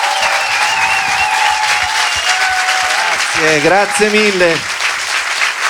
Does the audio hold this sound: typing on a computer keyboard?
no